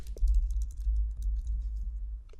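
Typing on a computer keyboard: quick, close clusters of light key clicks in uneven bursts over a low background hum, ending with a few final taps.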